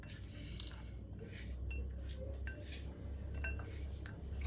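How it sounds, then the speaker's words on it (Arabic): A spoon stirs apples into gluten-free cake batter in a bowl, making faint, soft clinks and taps against the dish with a low, wet squish underneath. "غادي نخلط هاد التفاح وغادي نصب الكيك"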